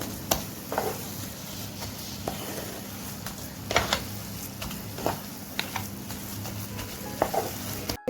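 Coconut naru mixture is mashed and stirred in a pan, with a soft background sizzle broken by repeated scraping strokes and clinks of the spoon against the metal, close and fairly quiet.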